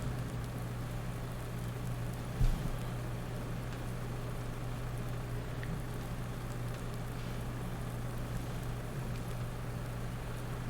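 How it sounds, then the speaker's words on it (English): Steady rain falls outside in Farming Simulator 19 as a continuous, even hiss that runs for the whole stretch. A low constant hum sits beneath the rain, and a single brief thump comes partway through. "Still raining outside."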